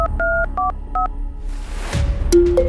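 A telephone is dialed with a rapid series of distinct beeping tones, each a short two-note chirp in an uneven rhythm, followed by clicks and a steady tone as the call connects, with no voices.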